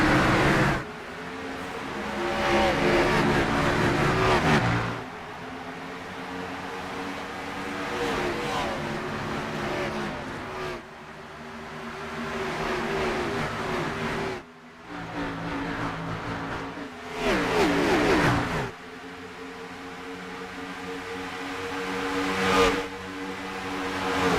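Simulated NASCAR Cup race cars in iRacing at Homestead-Miami Speedway roar through a green-flag start, engines droning loud and continuous with rising and falling revs and brief drops as the field passes.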